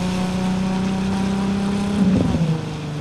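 Car engines in city traffic in Cyberpunk 2077 give a steady, loud motor drone throughout. Near the end a brief revving surge rises, then settles back down.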